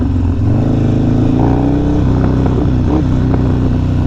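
A Harley-Davidson Sportster Evo motorcycle engine runs loud and close with a deep, rough idle and a brief rising rev partway through, with no talk.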